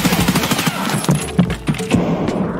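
Gunfire in Escape from Tarkov, a PvP shooter, comes as a rapid string of sharp, punchy shots with uneven spacing, fairly loud and close, with no speech over it.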